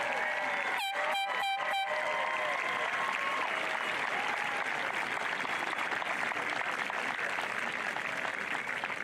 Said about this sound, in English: So I'm going to ask them all to stand so we can applaud our faculty and staff.